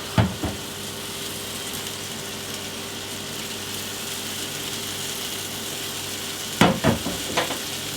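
Onions and tofu frying in melted butter in a pan, a steady close sizzle throughout, with a few sharp clinks of a utensil against the pan near the start and again toward the end.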